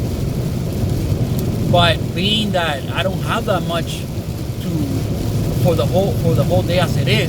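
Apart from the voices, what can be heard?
heavy rain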